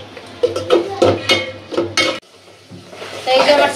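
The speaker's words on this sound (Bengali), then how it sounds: "চিংড়ি মাছটা একটু ভাজা ভাজা করে লই" Shrimp frying in white oil in a cooking pot for a Bengali curry, stirred with a utensil that scrapes and clinks against the pot in repeated bursts over a steady sizzle, close and fairly loud.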